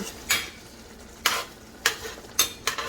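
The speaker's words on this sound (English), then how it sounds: "And then I'll give this a stir." Spoon stirring a zucchini stew in a hot, smoking pot, four or five quick scraping, sizzling strokes spaced about half a second to a second apart, close and moderately loud over a faint frying hiss.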